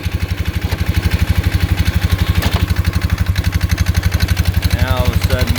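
A steady, rapidly pulsing engine beat from a machine with a faulty CVT whose secondary clutch keeps spinning in gear when it should idle, loud and close, with a faint whine near the end.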